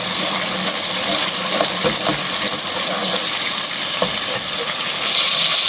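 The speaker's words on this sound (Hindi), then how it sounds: "और ये अदरक लहसुन भून रहे हैं।" Ginger-garlic paste with ground tomato sizzles in a pan while cooking potato kofta curry, a loud, steady frying hiss with occasional stirring clinks.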